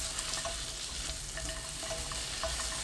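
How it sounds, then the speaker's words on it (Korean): Onion stir-fried in a spoonful of cooking oil in a pan over high heat, a steady dense sizzle with faint intermittent scraping of a spatula, close and continuous. "팬에 식용유 1큰술, 양파 넣고 센 불로 1분 볶아주세요"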